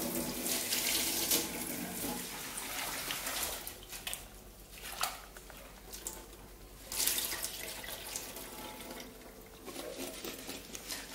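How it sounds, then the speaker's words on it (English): Apples for an apple crumble rinsed under a running kitchen tap, a steady hiss of flowing water with patter and splashing that swells and eases over about eleven seconds, heard up close with no talking. "Going to give them a little rinse again."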